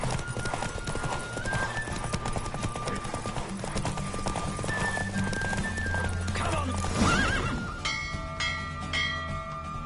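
Rapid hoofbeats of a galloping horse in a race in The Witcher 3 pound continuously under a loud game soundtrack, ending with a horse whinnying and bell-like tones.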